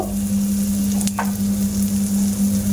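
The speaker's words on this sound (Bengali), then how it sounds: "একটু হালকা ভাজা ভাজা মতো করে নেব" Steady, close sizzling of nigella seeds, chopped ginger and green chillies frying lightly in a hot pan, continuous and fairly loud, with a brief stir partway through and no voices.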